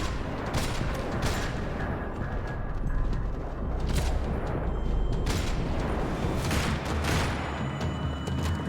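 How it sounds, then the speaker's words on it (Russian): Dense, continuous gunfire in the video game Max Payne 3, a steady rattle of overlapping shots and booms that fills the whole stretch at constant loudness with no talking. "Rattling with gunfire."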